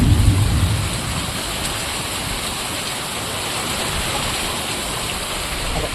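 Heavy monsoon rain in Anjar, Kutch, pours steadily in a dense, continuous hiss, loud and close, with no voices.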